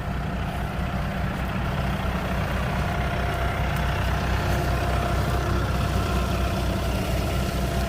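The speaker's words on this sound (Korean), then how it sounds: "트랙터에서 이렇게 라인을 타고 들어가서 이렇게 뿌리죠" A tractor engine rumbles steadily at close range while spreading fertilizer over a corn field, a continuous low drone with no pauses or talk.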